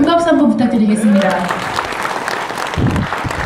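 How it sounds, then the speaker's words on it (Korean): Crowd at an outdoor political rally applauding, clapping that builds beneath a speaker's voice and then carries on as a steady background wash. "큰 박수 한번 부탁드리겠습니다."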